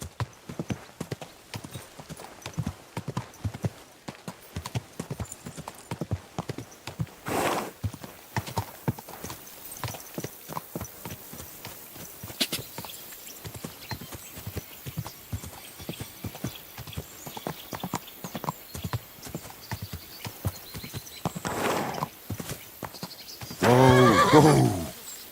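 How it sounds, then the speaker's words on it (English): Horse hooves clip-clopping steadily over a long stretch in Kingdom Come: Deliverance II, with a couple of neighs and whinnies, the last one loud near the end, and occasional speech in between. "Easy, good horse."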